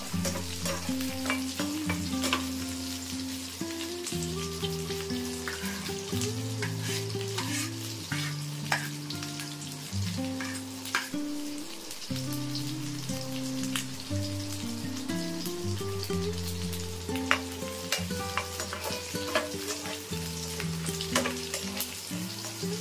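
Pointed gourd and shrimp fry in a pan, a continuous close sizzle with stirring scrapes and clinks recurring throughout, loud and steady with no voices.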